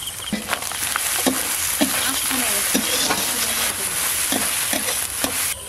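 Chopped tomato with salt, turmeric and chili powder stir-fries after ginger and cumin, a loud close sizzle running throughout while a utensil scrapes and taps the pan in irregular strokes.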